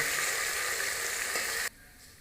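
Garlic and ginger paste frying in a pan for a Pakistani daal mash fry, giving a loud, close, hissing sizzle that cuts out abruptly near the end.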